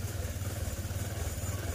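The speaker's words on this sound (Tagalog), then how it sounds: "On na natin yung motor" A Honda Click scooter engine idles steadily with a low, even rumble and a light mechanical clatter, heard at moderate distance without speech.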